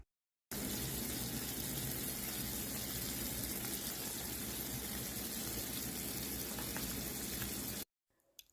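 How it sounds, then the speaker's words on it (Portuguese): A slowly boiling mixture in a home kitchen, its thick bubbles popping in a steady, close crackling sizzle that runs without a break for about seven seconds and then stops abruptly. "As bolhas nitidamente já estão estourando com uma certa dificuldade e o barulho também muda."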